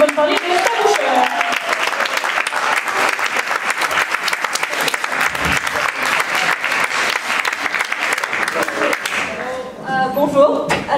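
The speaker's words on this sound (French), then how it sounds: "Je vous demande de donner une bonne main d'applaudissement à notre nouvelle équipe de Pauline, Noah et Blanche" A school math conference audience gives a loud, dense round of applause for a student team. The clapping thins out near the end as a voice begins over it.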